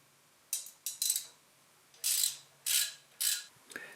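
Ratchet wrench clicking in short bursts while an air cleaner bracket is loosened on a John Deere 755 tractor, several quick ratcheting strokes separated by pauses, close and fairly quiet.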